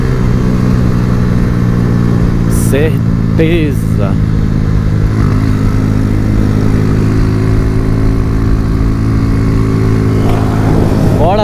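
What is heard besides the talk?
Honda Fan 125 motorcycle riding fast, engine misfiring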